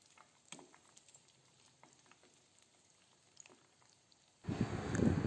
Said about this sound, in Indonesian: Sesekali bisa dibalik drumstick yang kita goreng agar semua bagian bisa matang.